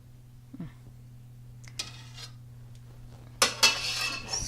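A spoon scrapes and clinks against a cauliflower gratin dish, a few sparse taps early and then two sharper scrapes near the end, close and fairly quiet, with nothing else heard.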